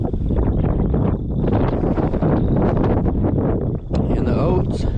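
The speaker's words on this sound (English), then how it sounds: "It's a little bit windy out here." Strong wind roars steadily against the microphone outdoors by alfalfa and oat fields, a loud, continuous low rumble with brief gusts throughout.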